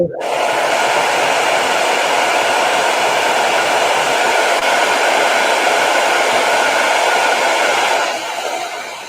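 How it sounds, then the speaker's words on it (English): A blow dryer roars steadily and loudly for several seconds on a painted bust, a constant whooshing hum that cuts off abruptly at the end. "I hit it with a blow dryer"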